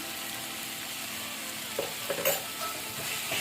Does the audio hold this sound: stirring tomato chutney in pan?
yes